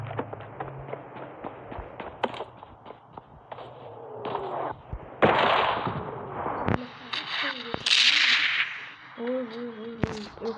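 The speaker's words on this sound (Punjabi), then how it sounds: "ਉਹ ਧਮਾਕੇ ਹੋਣ ਲੱਗ ਪਏ ਯਾਰ" Gunfire and explosions in the video game PUBG Mobile, with sharp cracking shots early on followed by louder blasts, while players talk over the action.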